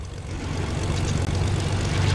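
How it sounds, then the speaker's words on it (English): Airplane engine drone from a Fortnite plane, a steady loud propeller-like roar with a low rumbling hum holding constant throughout. "It's a plane. I'm gonna get a plane."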